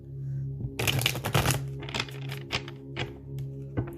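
Tarot cards shuffled by hand in a couple of dense bursts of papery riffling and clacks, close and moderately loud over a steady low background hum, with no talking.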